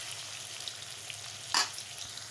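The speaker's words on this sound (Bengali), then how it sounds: "এবার আলুটা ভালো করে একটু ভেজে নিই।" Potatoes frying in a pan with salt and turmeric while cabbage is being cooked, a steady close sizzle with one brief louder stir near the end.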